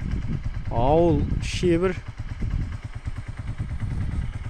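A 150cc Zilük motorcycle engine idles with a low, rhythmic chug close by, running steadily while people talk over it.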